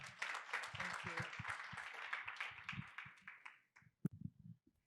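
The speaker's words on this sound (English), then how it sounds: "Round of applause one more time." An audience at a forum convening gives a sustained round of applause, dense clapping that fills the room for about four seconds before fading into scattered claps.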